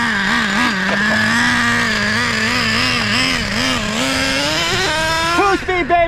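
A Traxxas Revo 3.3 nitro RC car runs at full throttle, its small engine screaming in a high, wavering whine that rises and falls with throttle, loud and close, ending in sharp revving bursts.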